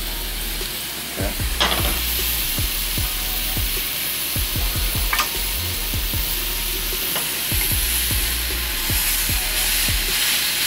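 A burger patty frying in a pan crackles and sizzles loudly and up close, with rapid irregular pops scattered over a continuous hiss.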